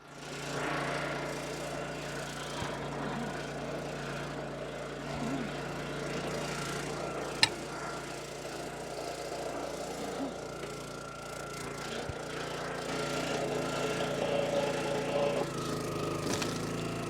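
A County Line log splitter's small gas engine running steadily as it warms up outdoors, a constant mid-level drone with a brief sharp knock partway through and a slight rise in roar toward the end.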